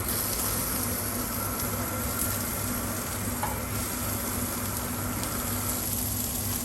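Prawns hit a hot pan at a Greek gastronomy festival cooking demonstration, and a loud, dense, continuous frying hiss and sizzle fills the whole stretch with no voices over it.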